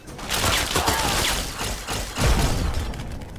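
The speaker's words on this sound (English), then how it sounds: "My laser gun doesn't like you." Laser gun fired at a turret in Fallout inside a Capital Wasteland vault: a busy, fairly loud run of zapping shots and impacts over about three seconds, with a heavier thump near the end amid mechanical combat noise.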